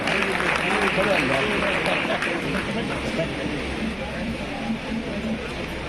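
Applause from an audience at the opening ceremony of a district Kannada literary conference in Vijayapur, welcoming a guest to the stage: a dense, steady wash of clapping that holds at even loudness throughout, with crowd murmur underneath.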